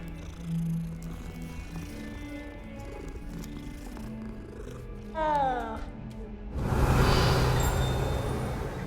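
A cat in the Hogwarts Legacy video game gives a brief rising call midway, then a louder rough, purr-like stretch toward the end, set over a continuous ambient game backdrop.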